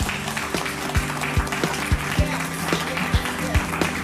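Audience applause at a school program event, steady dense clapping with a regular stream of sharp thumps, fairly close and loud, no talking.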